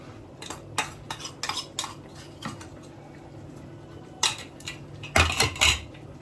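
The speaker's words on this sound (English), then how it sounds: "Let's stir this up" A spoon stirs egusi and ogbono soup with crayfish in a metal pot, giving irregular bursts of clattering and scraping, close and fairly loud, with quieter gaps in between.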